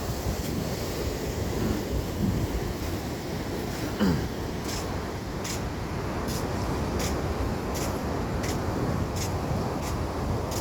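Cold-weather ocean surf and wind at New Brighton beach in New Zealand, a continuous roaring wash of waves with gusty wind buffeting the microphone, steady and fairly loud throughout with no talking.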